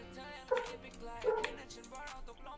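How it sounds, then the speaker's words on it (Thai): A dog barks and yips a couple of times in the game Human: Fall Flat, set near a big road, short sharp calls under ongoing background sound. "หมาเห่าแล้วนั่น"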